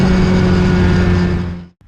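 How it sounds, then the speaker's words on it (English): A Datsun 510 SSS Bluebird street racer with an upgraded engine revs hard and accelerates, loud and close, holding a steady roar for about 1.7 seconds before cutting off abruptly. "I wasn't expecting this sort of aggression, this sort of brutality out to the engine"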